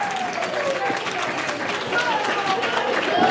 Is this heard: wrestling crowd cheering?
yes